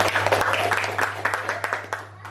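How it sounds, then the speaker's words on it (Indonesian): A small audience applauds at a parent literacy outreach session for a PAUD early-childhood school in Waisai, with scattered, uneven claps over a steady low electrical hum and voices mixed in. "Mari kita berikan tepuk tangan."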